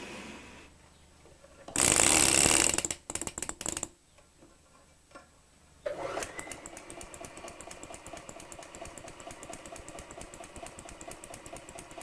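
A Hague linker machine linking knitted fabric gives a fast, steady mechanical ticking that runs evenly through the second half, after an earlier loud burst of clatter and rustling.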